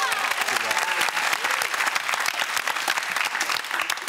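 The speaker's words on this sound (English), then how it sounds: "That was a nice cheer, nice supportive cheer" A television game-show studio audience bursts into loud applause and cheering, dense clapping with whoops and voices mixed in, sustained at close range throughout.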